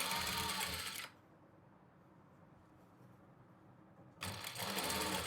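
A sewing machine stitches invisible piping on a blouse, running in a fast, close rattling burst, falling quiet for a few seconds, then starting up again just as loud.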